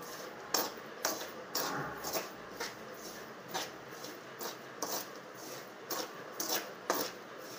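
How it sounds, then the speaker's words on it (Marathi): Salted peanuts roasting in a pan are stirred with a utensil, producing a steady series of scraping, rattling strokes at a regular rhythm, close and moderately quiet. "कडक होईपर्यंत असंच परतून घ्यायचं आहे।"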